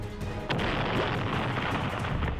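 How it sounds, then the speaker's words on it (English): An explosion goes off in the racing video game Taco Racers, a sudden booming burst about half a second in that rumbles on faintly at low volume. "There's the explosion."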